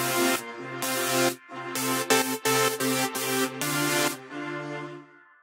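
Synth keys processed with compression, reverb and automation play loud sustained chords in chopped, gated bursts with short silent gaps, in an electronic production.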